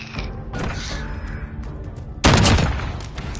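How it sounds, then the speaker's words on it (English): Shotgun fired in a PS4 video game, a sudden loud blast near the end after a stretch of quieter clicks and mechanical clatter, no speech over it. "That's a mean ass shotgun, dude."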